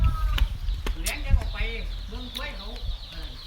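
Native backyard chickens cluck repeatedly at close range, with short rising and falling calls scattered through the clip over low rumbling background noise and some voice-like sounds.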